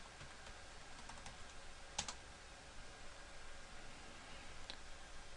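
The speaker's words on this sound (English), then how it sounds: "type in your username and password" Quiet, rapid computer keyboard keystrokes as a username and password are entered, faint close ticking with one sharper click, over a soft steady hiss.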